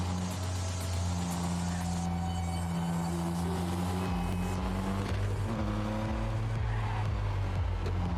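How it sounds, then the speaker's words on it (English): A game car's engine in Neverness to Everness drones steadily, and its pitch drops in distinct steps as gears change. The loud, continuous revving stays close throughout. "Actually got gear changes that sound okay."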